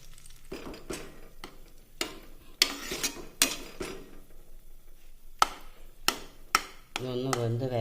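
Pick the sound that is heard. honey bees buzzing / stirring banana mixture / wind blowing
stirring banana mixture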